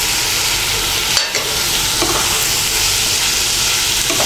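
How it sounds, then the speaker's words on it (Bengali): Chopped onion and green chillies fry in a pan with a loud, continuous close-up sizzle, stirred throughout with one brief scrape and a short dip in the hiss, no voices present. "পেঁয়াজ কুচিটাকে আর লঙ্কাগুলোকে ভালো করে মিশিয়ে নেব"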